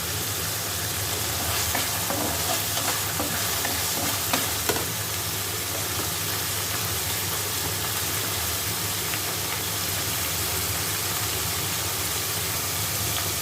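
Cumin seeds sizzle in hot oil in a pan for a tengra fish, potato and eggplant dish, a loud steady crackling hiss with faint stirring scrapes early on.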